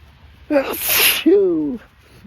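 One close, loud, wet human sneeze: a sharp sucking intake, then a noisy explosive spray and a voiced trailing tail, out in the rain.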